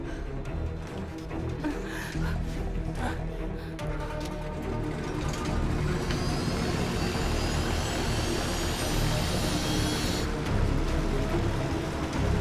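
A plane's engines roar steadily and loudly as the aircraft flies away in an action movie scene. The drone is continuous and dense, with a rising high whine partway through and no talking.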